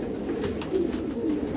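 White Hyderabadi pigeons coo softly in a loft, low rolling calls repeating close by over a steady background hum, with no voices.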